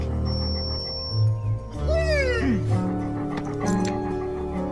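Family dog whimpering and whining in a movie scene, a few rising and falling high whines over a low background hum, fairly close and clear.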